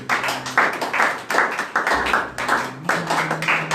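A congregation claps in a steady rhythm, about two beats per second, at a Sunday church service while they acclaim God. The clapping is fairly loud and close, and a sustained low musical hum runs beneath it.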